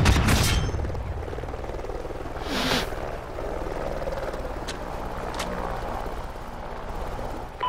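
A scout helicopter flies overhead during a video game battle, its steady rotor drone running the whole time beneath sharp booms and gunfire bursts.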